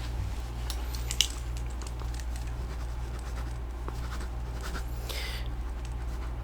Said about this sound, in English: let me just go ahead and write that down.